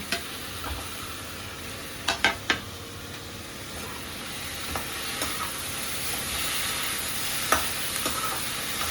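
Onions, tomato and curry leaves sauté in a pan for upma, giving a steady, fairly soft sizzle and hiss with a few clinks and scrapes of a stirring spoon.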